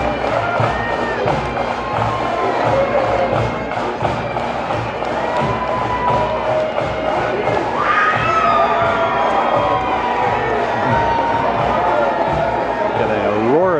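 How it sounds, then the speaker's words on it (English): A crowd roars and cheers across the street at New York City's St. Patrick's Day Parade, a steady wall of shouting and whooping with sharper surges mixed in, and voices audible throughout. "Got a roar of the crowd across the street."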